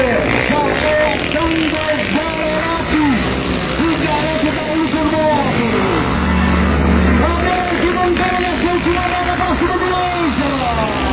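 Velocross racing motorcycle at a national pro-class race in Araçoiaba, its engine revving loudly as it accelerates past, with a commentator talking excitedly over the whole pass.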